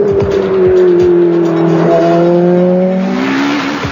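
A Ferrari F430 with a 490-horsepower engine accelerating hard, a loud, close, continuous roar rising in pitch as it pulls through the gears, with a brief tire squeal.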